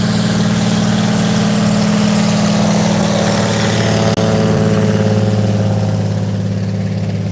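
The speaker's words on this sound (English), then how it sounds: "So loud, but I love that plane." A loud, steady engine drone with a low hum holds continuously, briefly interrupted by a sharp click midway, then continues unchanged.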